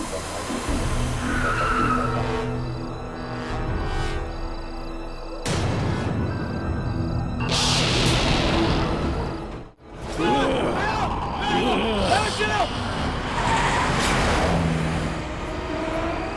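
A car brakes hard and slides to a stop with skidding tires, engine roar and broad rushing noise rising in bursts before a sudden cut, then continuing with faint voices and rumble underneath.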